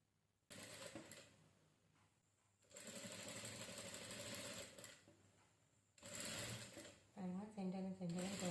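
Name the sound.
sewing machine stitching saree blouse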